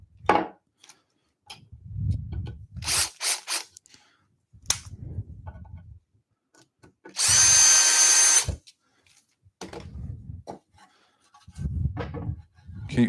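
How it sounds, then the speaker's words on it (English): A power drill drives screws into a wooden bar table in short bursts of whirring with clicks between them, followed by one longer, louder run, all close by. "I'm going to come through first of all with a couple of these screws."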